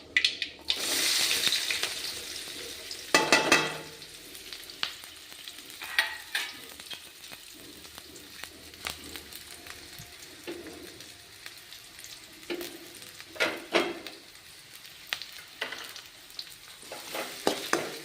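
Onions frying in oil in a pan until golden, with a steady sizzle broken by louder bursts and scraping stirs, heard close with no talking.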